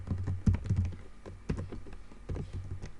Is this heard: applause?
no